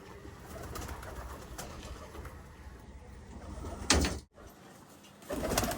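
Pigeons at a pigeon farm cooing softly and repeatedly at middle distance over a low background hum, with a brief loud knock partway through.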